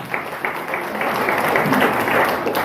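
An audience applauds at a winners' success celebration, with steady, dense clapping that holds at a fairly even level and swells slightly partway through.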